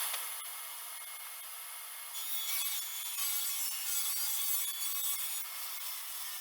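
A saw rips a plywood panel down to width for a fireplace mantel surround, a continuous close hissing, rasping cut that grows louder partway through and runs steadily with no talking.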